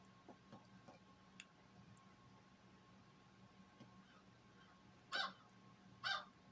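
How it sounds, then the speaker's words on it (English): A crow gives two short, harsh caws, fairly distant, over faint background hiss and scattered small ticks, with no one talking. "I think we got the crow back."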